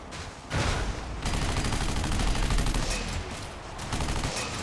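Video game gunfire from the sci-fi shooter Section 8: Prejudice, a dense sustained burst of rapid automatic shots with short pauses, loud and close, no talking.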